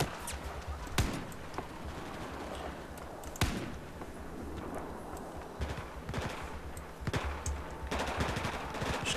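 Battlefield 4 gameplay gunfire: bursts of automatic rifle fire and sharp single shots at irregular intervals, loud and close, set against a continuous battlefield rumble.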